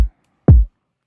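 A single deep, punchy kick drum hit with a quick decay, following the tail of a previous hit, then silence.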